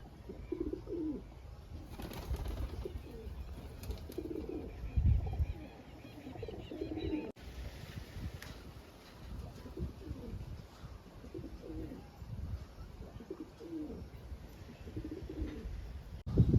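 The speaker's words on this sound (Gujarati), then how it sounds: "અને કબૂતર પણ અંદર નીચે આવી ગયા છે" Pigeons coo in soft, repeated low calls throughout, close by, with a brief flutter of wings and faint background noise.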